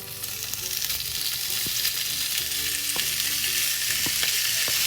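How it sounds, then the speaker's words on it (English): Beef browning in oil in a large skillet over medium-high heat, giving a dense, steady hiss and sizzle that builds slightly louder, with a few light clicks and utensil taps, close up and without talk. "take a large skillet over medium-high heat and heat up your 1 tablespoon of oil. Then add your beef,"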